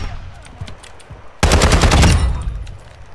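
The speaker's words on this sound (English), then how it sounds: "Somebody's shooting from a distance." Gunfire from a distance in a video game: a few faint scattered shots, then a loud, rumbling volley of rapid automatic fire that fades out over about a second.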